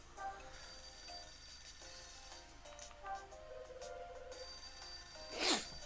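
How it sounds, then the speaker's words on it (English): A telephone rings in the video game Hotel Dusk: Room 215, a faint, repeated electronic ring over a steady game hum, with a brief louder rustle near the end. "Yeah, the phone's ringing."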